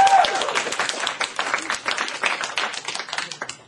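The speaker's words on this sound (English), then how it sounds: "You're supposed to applause again." A studio audience at a game show bursts into dense, sustained applause, loud and close throughout, with many overlapping claps.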